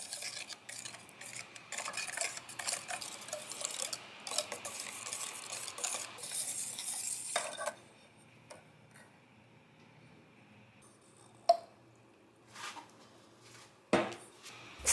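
A whisk scrapes and stirs egg and sugar batter in a bowl, held against the bottom while a bowl of warm water with melted butter sits nearby, making a steady close rubbing, ticking rhythm for several seconds before thinning to sparse clicks.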